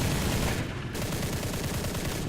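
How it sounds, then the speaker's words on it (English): A 20 millimeter aircraft cannon firing in War Thunder, Japanese rank 1 aircraft, a dense loud burst of rapid shots that runs across the whole moment with a brief dip partway through. "This is the 20 millimeter cannon."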